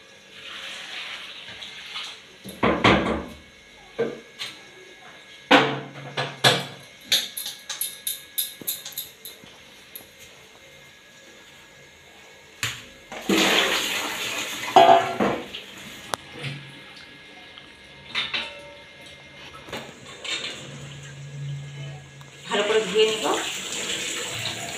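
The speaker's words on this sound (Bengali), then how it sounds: "এই জলটা দিয়ে মানকচু ধুয়ে নেব।" Hot water poured and splashed while washing pieces of maan kachu (giant taro) in a village kitchen, coming in several bursts of running, sloshing water separated by quieter pauses.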